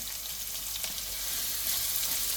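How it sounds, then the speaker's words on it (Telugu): Chopped onion sizzles loudly in a hot pan for a village-style drumstick and egg curry, a steady bright frying hiss that swells slightly toward the end, with no voices. "ఆనియన్ మొత్తం వేసేసుకోవాలి."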